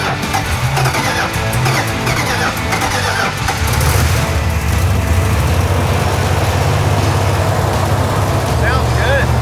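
A 1970 Hemi Charger V8 rumbles loud and close, its deep idle churning steadily after starting, with people talking over the engine noise.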